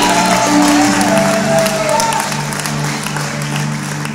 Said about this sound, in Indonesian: Beri tepuk tangan yang paling hebat.